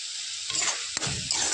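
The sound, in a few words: cardamom frying in oil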